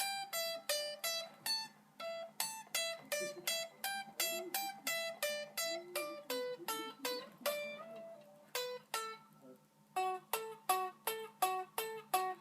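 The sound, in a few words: unplugged electric guitar tapping lick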